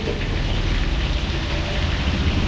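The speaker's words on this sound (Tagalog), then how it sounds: "So maglalagay lang tayo ng konting tubig." A small amount of water poured into a cooking pot holding a beef dish seasoned with beef cube and sesame oil. It makes a steady, continuous hissing splash at even loudness throughout, with no talking.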